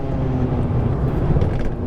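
Dallara Stradale sports car at the Monza circuit, its engine a close, steady, loud drone with a rich low rumble and no voices over it.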